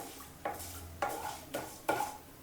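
Urad dal roasting in a pan gets stirred in four distinct scraping strokes at a steady pace, over a faint background sizzle.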